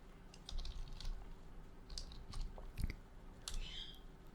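A computer keyboard typing the word localhost gives quick irregular key clicks, close and fairly quiet, with no one talking.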